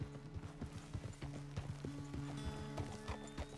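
A horse's hooves clip-clop at a steady walking rhythm in Red Dead Redemption 2, moderately close over a low ambient game soundscape, with no talking.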